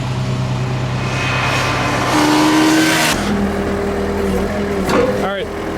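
A small vehicle with a freshly installed battery is driven around a rural property past a cabin and a pit, its engine a steady nearby drone with a rise in pitch, under a voice talking.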